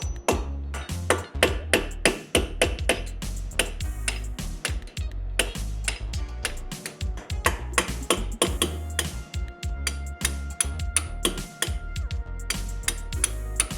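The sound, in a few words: hammer and punch knocking out brake pins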